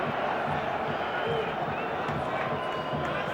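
Stadium crowd at the 1995 Toyota Cup match between Ajax and Gremio, a steady roar of cheering and murmuring spectators filling the background continuously under a commentator's voice.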